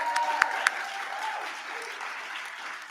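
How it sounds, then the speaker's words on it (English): A gathering at a youth recognition celebration claps for a new executive board, with a few sharp claps early over a diffuse, moderate wash of crowd applause that continues evenly. "Round of applause"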